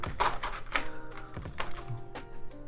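Plastic keycaps clack and tap in quick irregular clusters as they are handled and shuffled, close and crisp with a few heavier thunks.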